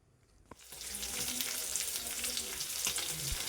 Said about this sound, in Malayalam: ഇനി നമുക്ക് ഒരു മീഡിയം ഫ്ലെയിമിലിട്ടിട്ട് നമുക്ക് മീനിൻ്റെ അപ്പുറത്തെ സൈഡൊന്ന് വേവിച്ചെടുക്കാം.